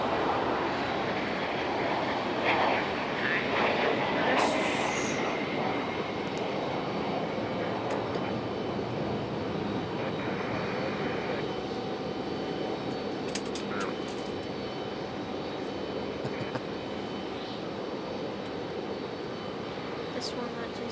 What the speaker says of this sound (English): And we got American Airlines A321.